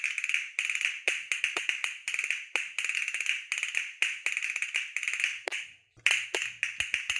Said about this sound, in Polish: To kastaniety.